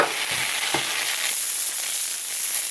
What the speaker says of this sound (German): Und da geben wir mal den Zucker hinein und die Sahne. Die Pfanne ist schon heiß, wie man hört.